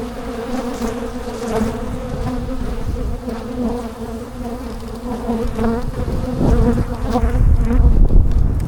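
Dense, loud buzzing of many honey bees being shaken into a hive, a continuous droning hum that swells slightly toward the end, with no talking.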